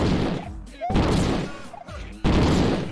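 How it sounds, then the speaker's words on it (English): Bursts of loud, close explosions and crashes in a Donkey Kong video game hit in quick succession, separated by short gaps, with game-like effects between the blasts. "Explosions everywhere, and I got gone."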